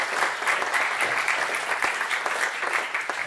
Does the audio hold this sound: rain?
no